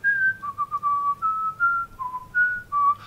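A person whistles a short melody of clear, steady notes shifting up and down in pitch, close by and alone.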